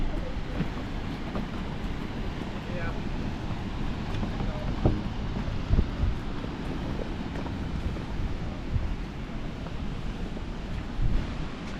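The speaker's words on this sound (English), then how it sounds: "And there it is, the Atlantic Ocean." Atlantic Ocean surf and wind on the Tenerife coast, a steady broadband roar of breaking waves with gusty wind buffeting the microphone throughout, fairly loud and continuous with no talk.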